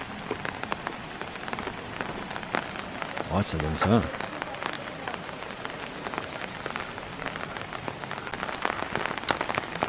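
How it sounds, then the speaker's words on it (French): Steady rain patters throughout, a dense crackle of drops on a surface, with a person speaking briefly partway through. "Et comme vous pouvez l'entendre, il pleut."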